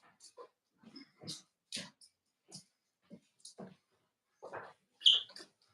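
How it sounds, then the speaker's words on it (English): Small dog making short snuffling, grunting and squeaky noises in scattered bursts close by, with brief pauses between them and no talk. "You mouthy dog"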